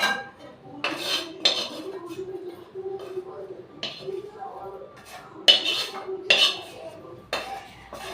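Metal utensils clink and scrape against a pan as fried neem and eggplant are lifted out, a series of sharp, close clatters spaced irregularly over a low kitchen background.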